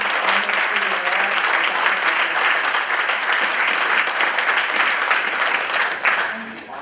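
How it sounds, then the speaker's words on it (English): A meeting audience gives a round of applause for Ethan Brown, loud continuous clapping from a crowd that holds steady and then tapers off near the end, with faint voices mixed in. "Let's give a round of applause to Ethan Brown."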